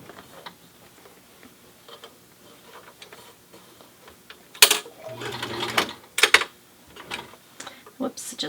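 Sewing machine stitching layers of a cloth face mask, quiet ticking at first, then bursts of rapid mechanical whirring and clatter with pauses between runs.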